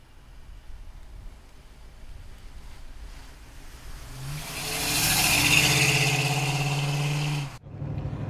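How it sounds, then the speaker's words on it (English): Grabber green 1969 Ford Mustang with a 351 engine driving on the road, quiet wind and road rush building into a louder steady engine drone before cutting off abruptly. "let's take a 69 Mustang for a ride"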